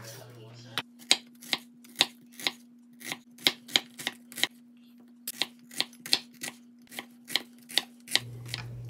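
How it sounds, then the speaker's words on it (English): Knife dicing a medium red onion on a cutting board gives a steady run of sharp, close chops, about two per second, over a faint steady hum with no talking. "Now I'm going to dice this medium sized red onion."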